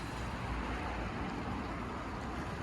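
A 2020 Mini, a rebuilt salvage car, drives along steadily, giving a continuous broadband road and engine rumble that holds at a moderate level throughout with no talking.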